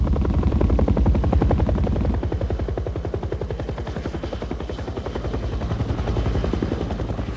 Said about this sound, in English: the 1st Cavalry helicopters move into the valley to a location designated LZ X-ray